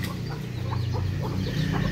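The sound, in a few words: Cornish bantam chickens clucking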